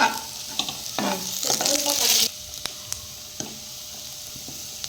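A spoon scrapes and stirs fish curry rasam with whole country garlic in a pan over the heat. The busy stirring and sizzle lasts about two seconds, then light, sparse clinks follow over a soft steady frying hiss.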